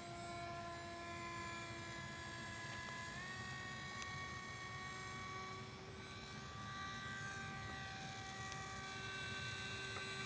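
Electric motor of a TechOne Mercury RC model plane in flight under power, a steady high tonal whine with harmonics that rises slightly in pitch partway through and holds loud and continuous throughout.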